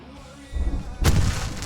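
In the Alan Wake video game, a burst of gunfire cuts in as a sharp blast followed by rumbling booms and thuds, loud and close.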